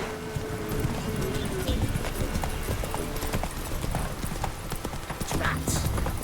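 Horse hooves galloping in The Witcher 3, a fast, loud, rhythmic clip-clop that runs throughout, with a voice speaking briefly over it.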